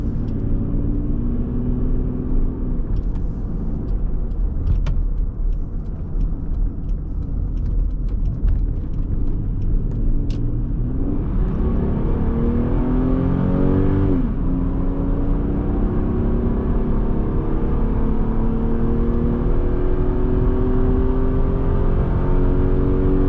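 A 1993 Lexus GS300 accelerating onto a freeway on-ramp, a loud steady engine drone and road rumble from inside the car that rises in pitch through the gears, with a shift midway and continued strong pull.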